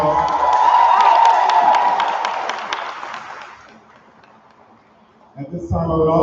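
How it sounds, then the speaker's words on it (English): Audience at a school promotion ceremony claps and cheers loudly with whoops, the roar fading over a few seconds before a voice starts speaking at the end. "Let's give those four one more round of applause"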